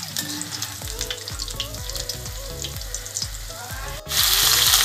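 Potatoes fry in a pan over a high flame, giving a steady loud sizzle broken by regular scraping stir strokes, and the hiss swells louder near the end.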